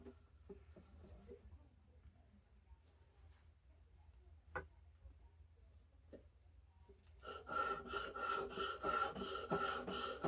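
A knife is stroked across a Norton IM83 oil or water sharpening stone with light pressure, the rasping scrape quiet and intermittent at first, then building into a louder, steady run of repeated strokes.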